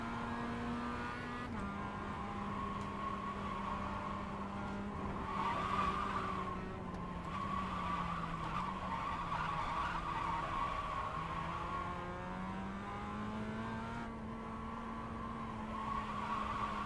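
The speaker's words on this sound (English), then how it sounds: "So you're telling me at 30 miles an hour, those tires are screaming." Race car tires squealing in a racing video game, a steady faint screech with a wavering pitch running under a low engine hum throughout, sliding up and down as the car corners, with no talk.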